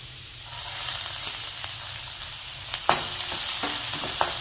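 Garlic and onion frying in a pan with cumin and chili for jeera rice, a close, steady sizzling hiss with occasional sharp crackles and light stirring knocks.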